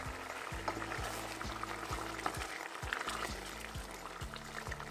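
Water poured into a simmering pot of Jamaican-style curry beef, a steady liquid rush over bubbling and sizzling, with a regular low-pitched thumping pulse running underneath throughout.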